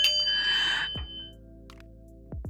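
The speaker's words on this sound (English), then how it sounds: "Let's ring that bell." A singing bowl is struck once, giving a bright sustained ring with steady overtones that slowly fades, followed by a second soft strike near the end, heard alone in a quiet room.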